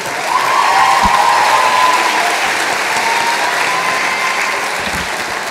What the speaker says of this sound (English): Please give another round of applause for the graduates from the School of Nursing.